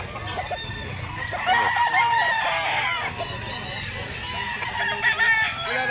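Roosters crow repeatedly at close range amid the din of a busy chicken market in Mantalungon, Barili, Cebu, with clucking from other fowl and some background chatter.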